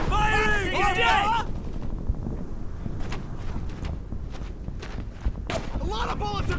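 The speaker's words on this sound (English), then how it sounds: "A lot of bullets are coming my way here!" Gunfire from the World War II shooter Brothers in Arms: Earned in Blood crackles as scattered sharp shots and bursts over battle noise, with a voice shouting at the start and again near the end.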